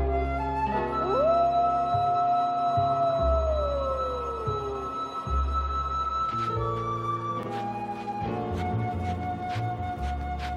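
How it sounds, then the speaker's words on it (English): A hungry wolf howls in a children's bedtime story, one long rising-then-falling wail over a soft musical background, followed by brief chimes and tones. "One day a wolf sat on the rock that was Sylvester and howled because he was hungry."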